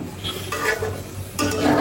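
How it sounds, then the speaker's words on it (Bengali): Fish being braised in a pan with a little water for a home-cooked mixed fish curry, giving soft sizzling and stirring scrapes with faint utensil clinks, steady and close. "একটু পানি দিয়ে সুন্দর করে মাছগুলাকে কষায় নিব"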